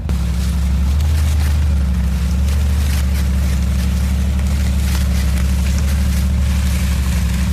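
A rebuilt 2022 Mercedes G63 G Wagon crawls over rocks in rock mode, its engine giving a steady, close, low rumble that holds for the whole stretch with no talking.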